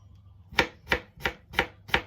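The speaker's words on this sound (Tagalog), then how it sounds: "Hiwain ko na po yung mga ingredients." A knife chops ingredients for yacon gyoza on a board: five crisp, evenly spaced strikes, close and clear, with no talking.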